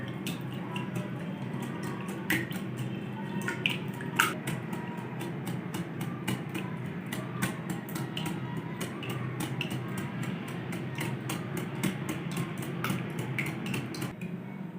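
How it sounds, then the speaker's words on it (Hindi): Eggs, milk and ghee being mixed together for anday ka halwa, heard as a soft, busy clatter of a utensil against a bowl with quick repeated taps and scraping at close range, with no talking. "सारी चीज़ों को अच्छी तरह से मिक्स कर लेंगे।"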